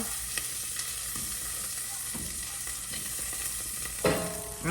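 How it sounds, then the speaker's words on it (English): Beef sears in a hot pan for pot roast, a steady broad sizzle running throughout with a few soft clinks and a louder scrape near the end, no talking. "You guys are almost done searing"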